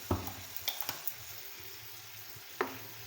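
Vinegar going into Chicken Manchurian sauce in a hot pan brings a soft, steady sizzle, with a few clinks and scrapes of stirring near the start and again near the end, and no voices.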